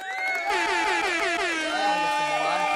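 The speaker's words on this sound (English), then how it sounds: "I'm kind of killing the air horn." An air horn sound effect blares loud and alone, a brassy, wavering honk that holds for nearly three seconds.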